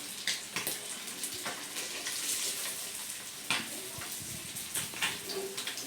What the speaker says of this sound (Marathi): की बांगडा करणार आहे फ्राय.